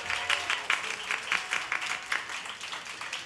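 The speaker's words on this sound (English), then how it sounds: "Give yourself a round of applause." A live concert audience in Los Angeles claps in a thin, moderately quiet round, with individual claps standing out in an uneven rhythm.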